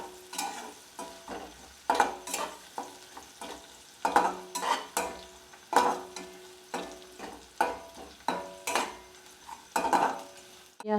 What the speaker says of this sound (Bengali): এটা আমি 2 থেকে 3 মিনিট পেঁয়াজটা একটু লাল করে ভেজে নেব।